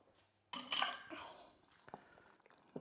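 Walnuts being stirred into a crumble topping in a mixing bowl, a few quiet clinks and scrapes of a utensil against the bowl, faint and brief, with a voice talking lightly around them.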